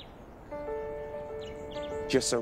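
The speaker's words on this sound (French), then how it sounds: "On entend plein de chants d'oiseaux quand on se promène." Birds sing in an Andros pine forest in the Bahamas, with clear, sustained whistled tones layered over quiet background hiss, ending in a quick burst of rapid chirps close by.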